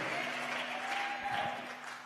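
Church congregation clapping in praise during a Spanish-language worship service, a steady wash of many hands applauding together at moderate distance, with a faint voice over it.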